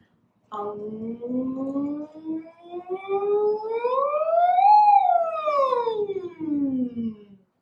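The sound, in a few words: voice imitating siren, vocal warm-up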